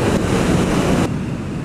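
Loud, steady wind roar buffeting a motorcycle helmet at about 130 km/h on a Honda CB 600 F Hornet, a broadband rush filling the whole clip with a slight drop in intensity near the end.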